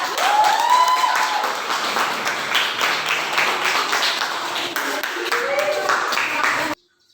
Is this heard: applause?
yes